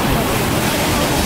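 Sea water surges loudly into the La Bufadora blowhole on a rocky cliffside, a dense roaring rush of churning surf, close and continuous.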